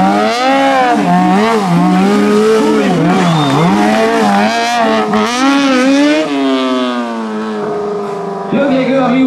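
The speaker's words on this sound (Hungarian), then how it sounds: "Lefüstölteti azt a hátsó kereket, ha ennyire csak lehet" A streetfighter motorcycle does a rear tire burnout at a show, engine revving hard and repeatedly, pitch climbing and dropping in loud waves, with a gritty scrubbing hiss of the spinning tire.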